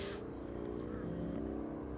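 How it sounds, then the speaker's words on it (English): A loud motorbike rumbling close by in a steady, continuous drone that swells slightly as it passes. "Wow, that's a loud motorbike."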